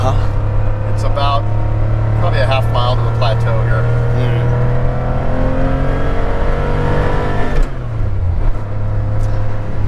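A Porsche 911SC's 3-liter engine drones and pulls steadily on a canyon road, heard loud from inside the car, with people talking over the engine and a gear change partway through.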